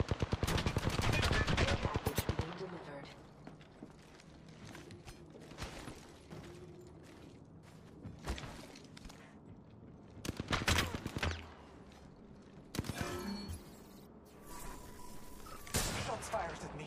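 Apex Legends gunfire erupts in a loud rapid burst at the start, followed by scattered shorter volleys and single shots at mid distance, with a voice talking over parts of it.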